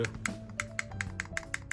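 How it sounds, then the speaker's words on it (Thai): A fingertip taps the metal frame of a KWC 1911 air pistol about a dozen times in a quick, even rhythm, producing sharp, close, faint clicks. "เสียงมันเป็นโลหะเว้ยเนี่ย"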